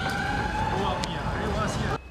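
A fire engine siren wailing as fire trucks arrive at a burning motel, a steady sustained tone with a faint hum and noise beneath, cutting off near the end.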